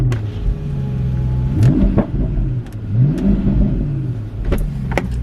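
A Porsche Panamera GTS engine revs in the snow, with several rising blips that climb and fall back, close and fairly loud, with a steady idle rumble underneath and no talk.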